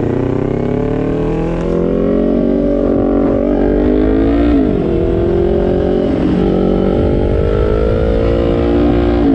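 A dual-cylinder Kawasaki Ninja 400 motorcycle is ridden hard, its engine droning loud and steady, rising in pitch as it accelerates through the gears with brief dips at shifts, close and continuous throughout.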